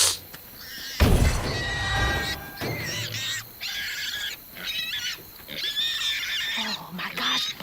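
A creature in the video game South of Midnight squeals and shrieks repeatedly in loud, strained bursts, with short gaps between cries and some game sounds underneath.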